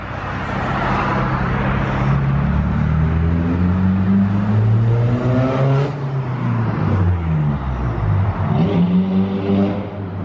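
A straight-piped Audi TT Mk1 roars past under a bridge, its loud engine note holding steady and dense before fading slightly as it goes by, with no talk over it.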